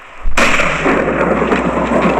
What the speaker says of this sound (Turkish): Şimşek çarptı kapı kapandı.